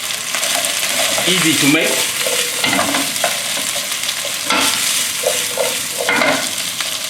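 Asparagus stir-frying in a very hot pan gives a loud, steady sizzle with intermittent stirring scrapes and clatter, and a voice speaks briefly over it.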